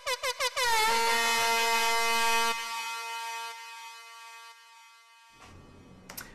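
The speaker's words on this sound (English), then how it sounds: "Balloon foghorn." A loud, buzzy synthesized balloon foghorn blast made in Ableton, with a few short stuttering honks first, then a sustained tone that decays and fades out.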